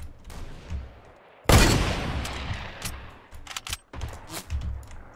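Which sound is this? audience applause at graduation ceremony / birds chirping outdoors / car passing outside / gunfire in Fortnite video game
gunfire in Fortnite video game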